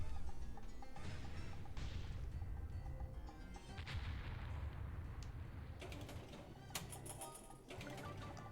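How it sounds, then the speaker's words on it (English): A loud, rumbling blast-like explosion effect from the Pinball FX3 video game plays over dense, continuous game noise, with a few sharper crackling hits toward the end. "Freaking explosion noise."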